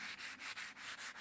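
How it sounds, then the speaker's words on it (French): Hand sanding with 120-grit sandpaper rubs old paint off an iron pergola, a steady close scratching with short regular strokes and brief pauses, no voices. "Et là, pour pouvoir poncer efficacement, vous voyez, j'ai un grain 120."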